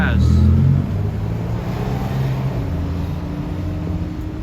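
Porsche GT2RS sports car in the GTA video game, a brief loud engine burst at the start settling into a steady low rumble, with a voice talking over it.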